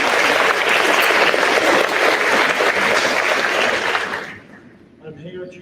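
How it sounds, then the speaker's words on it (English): Loud, dense applause from an audience at a senior awards ceremony, honoring graduates, sustained for about four seconds before quickly dying away. "Give yourself a round of applause."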